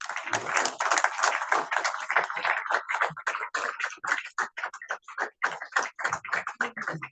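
A crowd at an induction ceremony claps steadily, a dense, close patter of hands that thins into more scattered claps toward the end.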